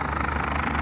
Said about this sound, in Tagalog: Na ang kuan Westpac helicopter oh, murag na i-rescue.